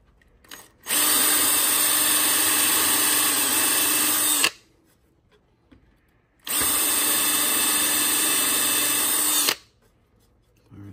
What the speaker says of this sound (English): now I need to bring it down and countersink